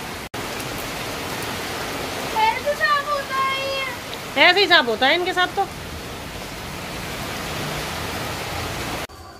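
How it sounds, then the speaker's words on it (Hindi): Steady rain falls throughout as a constant soft hiss on a cool monsoon day in India, with someone talking over it in two short bursts midway through. "तो बारिश हो रही है"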